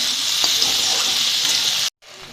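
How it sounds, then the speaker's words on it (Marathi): Okra frying in a pan as it gets stirred, a bright continuous sizzle with a few soft scraping touches, cutting to silence near the end before a quieter sizzle returns. "हे बघा ही मस्त अशी आणखीन एकदा हलवून घेऊ।"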